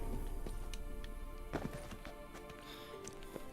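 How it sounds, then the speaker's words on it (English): Hooves of Kelpie, Geralt's horse in The Witcher 3: Wild Hunt, clip-clop in a steady walking rhythm under quiet game ambience, fairly close and moderately soft. "Kelpie. Another horse."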